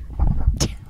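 A single sharp sneeze bursts out near the middle of a one-second stretch of low, murmuring background, loud and close, with only faint voice traces around it.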